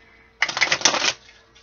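A deck of tarot cards riffle-shuffled close by, a quick burst of crisp flapping clicks lasting under a second, heard alone in a quiet room.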